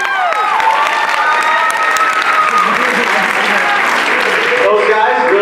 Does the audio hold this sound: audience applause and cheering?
yes